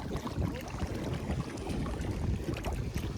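A small kayak paddles across a windy reservoir, with gusty wind buffeting close to the microphone and soft water splashes beneath it, no voices.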